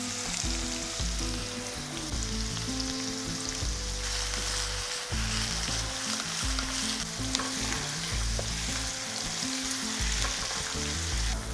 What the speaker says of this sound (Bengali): দেখুন পেঁয়াজটাকে বেশ লালচে করে ভেজে নিয়েছি।